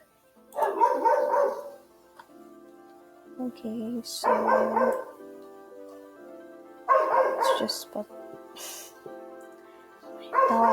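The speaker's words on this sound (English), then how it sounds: "Sorry, that was my dog." A pet dog barks and yips in several loud bursts separated by pauses, near the microphone, with a person talking briefly between them.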